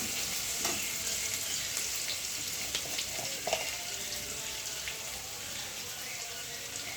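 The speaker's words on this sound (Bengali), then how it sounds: "ভালো করে পেঁয়াজটা আর কি ভাজা হয়ে যাবে, খুব নরম করে ভাজা হয়ে যাবে।" Steady sizzling of onions frying in a pan, a continuous hiss with faint crackles and an occasional soft stir, no voices.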